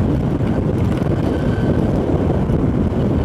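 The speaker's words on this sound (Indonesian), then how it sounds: "Sengaja kita ini agak dikencangin karena angin gede banget ya." Strong wind buffets the microphone in a steady, loud roar with a low rumble, heard outdoors near the Cileunjit railway station area in Tenjo, with no talk over it.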